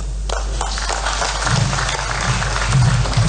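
An audience at a Kenyan televised forum on reconciliation and healing claps, producing a steady, dense wash of applause that carries on throughout the clip.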